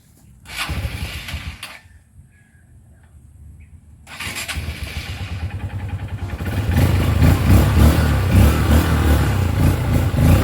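A car engine with a faulty ignition is cranked: a short churning burst, a pause, then repeated cranking that catches into a loud, rough, rumbling idle close by.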